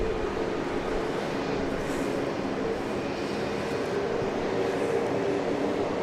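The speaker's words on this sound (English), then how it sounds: "That was a Beech C-90 King Air." A Beech C-90 King Air turboprop departs Dallas Love Field with a steady, broad engine roar that holds at an even level throughout, no voices over it.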